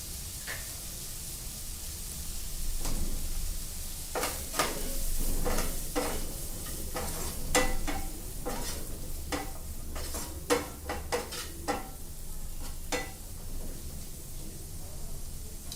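Tomato and paneer fry in a pan, a soft constant sizzle broken by repeated scraping and knocking of a spoon stirring, heard up close with no talking.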